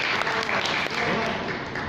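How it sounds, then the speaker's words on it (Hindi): Applause for a child during a Hindi religious study class, a steady dense patter of clapping from a group filling the room, with faint voices mixed underneath throughout. "तालियां बजा लो एक बार बच्चे के लिए"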